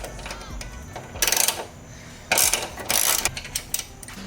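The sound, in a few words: ratchet removing a 10mm bolt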